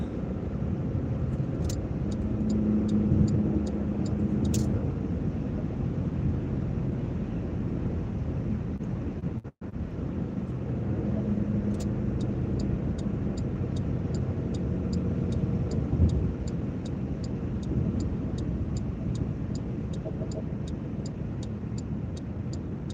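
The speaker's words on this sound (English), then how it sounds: "Doing some highway driving here." A car cruising on a highway before snow and ice in North Carolina: steady road and engine drone with wind rush throughout, a brief dropout midway, no talking.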